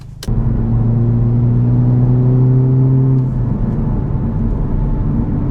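Honda Civic Type R pulling away from a standstill, a loud steady engine drone with rising harmonic tones that drop back to a lower rumble after about three seconds, close and continuous with no talking.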